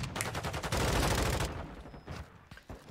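Gunfire in Call of Duty: Modern Warfare 2, a dense rattling volley of rapid shots for about a second, then scattered single cracks as it thins out; a voice briefly speaks.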